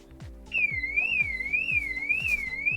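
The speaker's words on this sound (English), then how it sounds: "The alarm's going off." A Volkswagen Crafter or Mercedes Sprinter van alarm siren wails in a steady rising and falling sweep, loud and close, over a repeating low thumping pulse beneath it.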